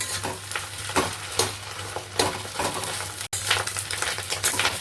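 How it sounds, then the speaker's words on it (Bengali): Rapid scraping and tapping of a spatula breaking up fish roe in a pan over a constant sizzle of frying, repeated in quick bursts. "এইভাবে খুন্তি দিয়ে ভেঙে ভেঙে দেবো, নইলে চাকা বেঁধে যাবে।"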